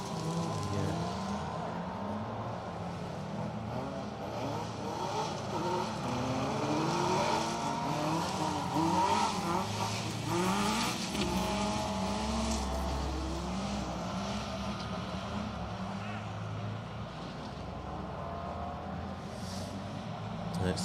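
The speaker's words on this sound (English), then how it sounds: "Harry David Pinchin and Colin Jenkins go through in their Citroen C2 as well." A rally car, likely a Citroen C2, passes on the Donington Rally stage, its engine rising and fading at mid distance across about twenty seconds, heard faintly beneath steady commentary.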